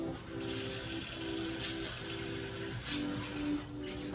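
Water runs steadily from a tap or pours into a cooking pot of Jamaican goat dish, a continuous close splashing gush with slight shifts in pitch as the vessel fills.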